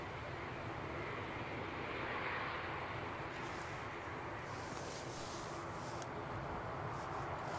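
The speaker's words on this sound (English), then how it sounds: "An ATR moving" An ATR turboprop airliner moving at windy Edinburgh Airport, a steady broad engine roar heard from a distance with wind noise throughout and a slightly rising hiss toward the end.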